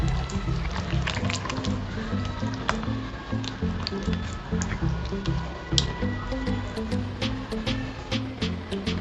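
Poha powder batter with curd, salt and water is stirred in a bowl, giving soft wet squishing and sticky clicks repeating over a steady low musical background.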